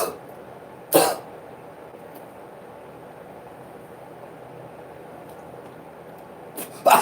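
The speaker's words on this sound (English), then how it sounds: "I fucking let out a cough." Two sharp, loud coughs, one near the start and another near the end, each a short burst separated by quiet background hiss.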